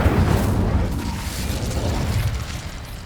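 Incendio fire spell cast in the Hogwarts Legacy video game, a dense low booming whoosh of flame that rumbles steadily for about three seconds, close and loud with no voices.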